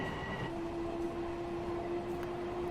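Long Island Rail Road train running in Train Simulator Classic near Hicksville, a steady rumbling rail roar with a sustained tonal whine throughout, close and continuous with no talk.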